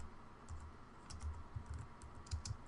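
Soft, quick keystrokes on a computer keyboard come in short irregular bursts, faint and close, with no talking.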